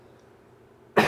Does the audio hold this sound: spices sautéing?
no